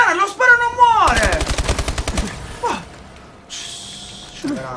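Rapid automatic gunfire in the video game Call of Duty Advanced Warfare, a close, fast burst of shots lasting a second or so, with a man's exclamations before it and game sound effects after.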